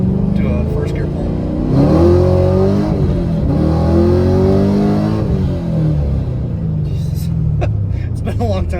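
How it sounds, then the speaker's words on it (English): A car fitted with new G-Force axles pulls hard in first gear, the engine note climbing loud and close in rising harmonic sweeps for several seconds before easing off into a lower rumble, with some clicks and rattles near the end. "Do a first gear pull."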